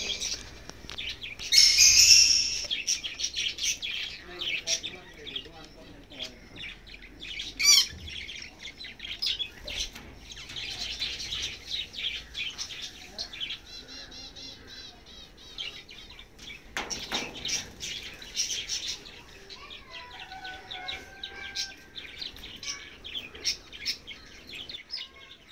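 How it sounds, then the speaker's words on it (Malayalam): A pair of African lovebirds in a new aviary chirp and squawk in rapid bursts, loudest near the start, with wing flaps and light taps, close by and continuing through the whole stretch without talk. "ഇതിലിപ്പോൾ ഒരു ജോഡി ആഫ്രിക്കൻ ലോബേർഡ്സ് ആണ് ഉള്ളത്"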